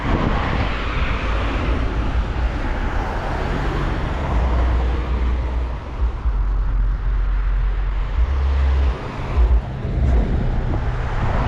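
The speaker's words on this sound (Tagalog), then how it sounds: "Madaming sasakyan," Steady stream of cars rushing past on a busy road in New Zealand, a continuous loud roar of tyres and engines with overlapping passes and no gaps of quiet.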